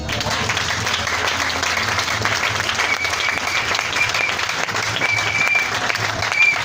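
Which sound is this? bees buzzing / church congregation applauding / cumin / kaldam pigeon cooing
church congregation applauding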